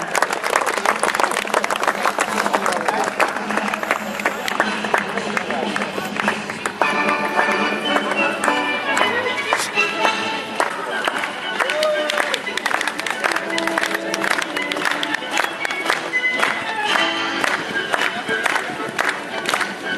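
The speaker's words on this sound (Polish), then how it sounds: "A teraz państwa prosimy o brawa, runda honorowa." Audience applause fills the arena at the CSIO*** Sopot 2011 international show jumping event during the honour round, a dense, steady clapping from a large crowd that carries on throughout under voices and busy background sound.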